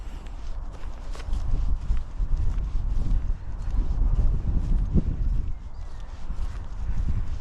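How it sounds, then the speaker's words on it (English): Wind gusts buffet the microphone steadily while walking outdoors along a rural Norfolk path, a continuous low rumble with faint footstep-like thuds and no talking. "That wind is a little bit nippy today."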